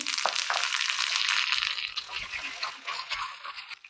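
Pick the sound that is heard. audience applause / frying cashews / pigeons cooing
frying cashews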